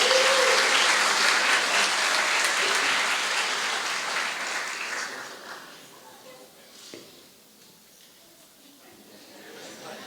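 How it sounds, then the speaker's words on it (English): A graduation crowd applauds the chancellor, loud sustained clapping and cheering that fades gradually to near quiet, with a few voices in the room. "You all give her a round of applause as our Chancellor of all 4 colleges."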